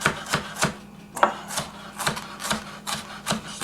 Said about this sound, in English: Cut that piece off there. Nice little thin strips. Julienne.